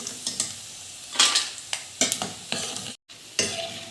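Chicken pieces for a chicken pickle fry crisp in hot oil, with a close, steady sizzle broken by sharp scraping stirs against the pan and one brief silent gap.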